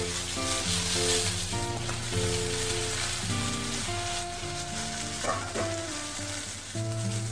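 Eight kinds of vegetables sizzle and fry in hot oil seasoned with panch phoron, a steady loud crackling hiss close by, with stirring and a faint melodic tone running underneath.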